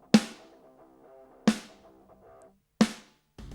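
An SSD5 snare drum sample strikes three times at roughly 1.3-second intervals, each crisp hit followed by a sustained tonal ring, with the start of another sound cutting in at the end.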